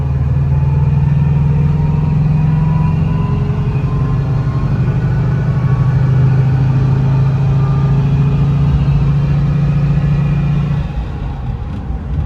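A 1959 VW Bus engine hums steadily while driving, a loud, even mid-pitched drone with shifting tones as it moves through the gears, easing slightly near the end.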